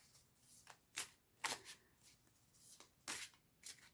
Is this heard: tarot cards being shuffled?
yes